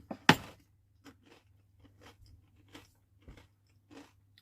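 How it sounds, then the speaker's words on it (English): Small crunchy rice crackers bitten and chewed in a tiny caravan kitchen: one sharp, loud crunch near the start, then a string of softer, irregular chewing crunches close to the mic, with no talking. "Oh yeah, little rice crackers."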